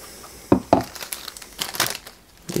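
A small plastic bag of model-kit parts and screws crinkles and rustles up close, with two sharp crackles early on followed by a run of softer, irregular crumpling.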